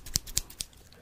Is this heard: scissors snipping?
yes